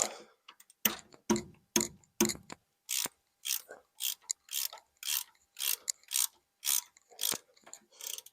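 Ratchet wrench loosening painted bolts on the thermostat housing of a John Deere 750 tractor, loud close clicking strokes repeated in steady bursts of rapid pawl ticks, one after another with short pauses.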